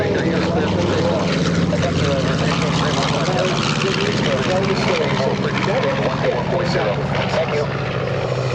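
North American B-25 Mitchell bomber taking off at an air show, a loud steady propeller engine roar throughout with a voice talking over it.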